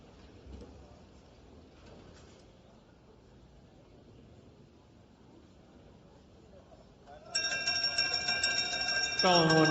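A lap bell rings for the final lap at a Latin American championship race in the 60-64 category, a bright, sustained metallic clang that starts suddenly near the end over low crowd and track ambience.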